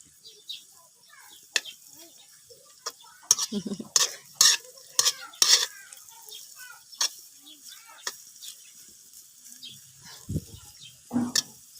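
A spoon scrapes and clacks against a pan while adobong labong, bamboo shoots in adobo sauce, is stirred, giving irregular close knocks over a faint sizzle, with a low voice murmuring briefly.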